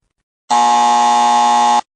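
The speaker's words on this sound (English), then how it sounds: "when you think of a sport beginning with F, you press your buzzer" A quiz game buzzer sounds once, a loud steady electronic tone that holds for about a second and a half and then cuts off cleanly, heard alone with no talk.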